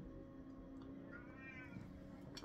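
A house cat gives one faint, drawn-out meow in a quiet room, followed by a sudden sharp knock or bump at the very end.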